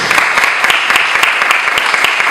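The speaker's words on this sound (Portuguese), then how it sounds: "Dá uma grande salva de palmas." A church congregation at a Holy Communion service breaks into loud, dense applause, with many hands clapping close together in a sustained burst.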